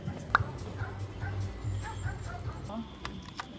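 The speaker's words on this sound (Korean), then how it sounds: "여기는 강아지가 노래 불러주고" A dog howls and whimpers in a wavering, song-like way during a March trip to Fukuoka, Japan. The thin cries rise and fall over a soft background murmur.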